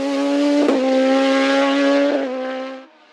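A Mosella PA 2000 rally car racing on a sport-series stage at Vuillafans–Echevannes 2023, its engine holding a loud, steady, high-revving drone with brief gear-change blips before fading near the end.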